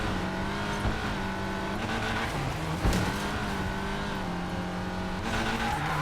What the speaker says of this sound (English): I got distracted because I was racing really hard.